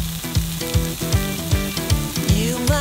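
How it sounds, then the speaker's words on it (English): Onions browning in olive oil, a bright sizzle in the pan with a regular repeating pulse of stirring strokes and a faint tonal hum underneath, close and fairly loud, with no talking. "I started off with olive oil so I can brown up those onions."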